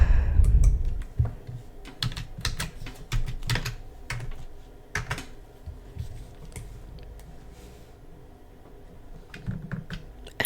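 Fingers tap out a message on a computer keyboard nearby, with irregular bursts of crisp key clicks and short pauses, heavier thumps at the start, and no talking.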